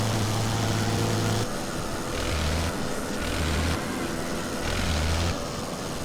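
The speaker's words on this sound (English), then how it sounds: "I can hear the droning of the aviatics engines below me." Aviatik aircraft engines drone beneath the player in the Wings Over Flanders Fields flight game, a constant loud low hum with a pulsing, wavering throb that rises and falls every second or so, with no talking.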